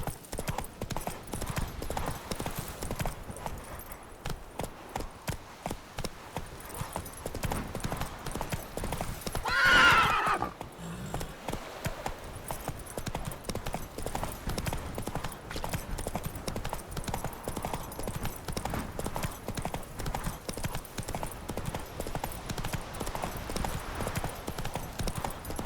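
Horse hooves clip-clop steadily through a game scene in The Witcher 3, continuing for the whole stretch, with a single loud neigh breaking in near the middle.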